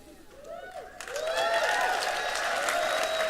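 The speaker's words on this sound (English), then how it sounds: "Yeah, you can clap for that." An audience at a leadership breakout session bursts into applause that swells within a second into full, sustained clapping with a few cheers over it, and a voice is audible just before it starts.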